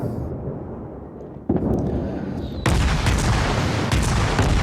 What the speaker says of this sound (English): And Smelly Elvis is just going to use those guns and just one after the other let them volley